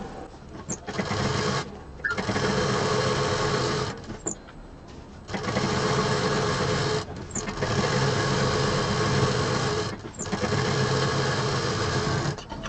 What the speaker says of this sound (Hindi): इसको हम पीछे से पूरा कवर करके सिल देंगे चारों तरफ से